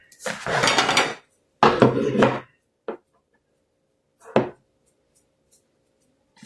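Utensils clatter and scrape in a bowl as seasoning and black pepper are mixed for roast fish, two longer bursts of stirring followed by a couple of short, sharp knocks, close and fairly loud with no talking.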